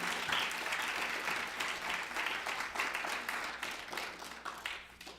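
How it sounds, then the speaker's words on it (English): An audience at a Yom Hashoah commemoration gives a speaker a sustained round of applause, many hands clapping steadily and fairly evenly before slowly thinning out. "I'd really love to just give you a round of applause."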